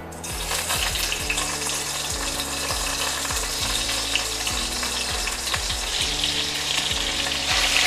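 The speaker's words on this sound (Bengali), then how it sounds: "তেল গরম হয়ে গেছে এখন ফুলকপিগুলো দিয়ে ভেজে নেব" Cauliflower florets sizzle steadily in hot mustard oil for cauliflower and potato curry, a loud continuous frying hiss with repeated scraping stirs of a spatula in the pan throughout, no voices.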